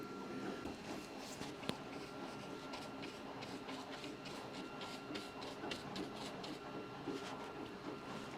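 A printer runs steadily through the clip, turning out fencing pieces for a model railway with a continuous whir, repeated mechanical clicks and ticks, and one sharp tap partway through.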